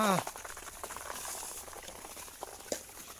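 Water is poured from a bucket for ducks and chickens, a close, bubbling, pattering splash that runs steadily for a few seconds, with a brief voice at the very start.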